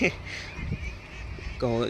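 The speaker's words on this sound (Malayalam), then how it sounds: "ഇത്രയും തോനെ താറാവ് ഞാൻ എൻ്റെ ലൈഫിൽ ആദ്യമായിട്ട്" Several ducks quack and honk close by, a cluster of nasal calls at the start and a louder burst near the end, with low background noise.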